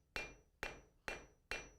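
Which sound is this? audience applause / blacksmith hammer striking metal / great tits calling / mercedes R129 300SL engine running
blacksmith hammer striking metal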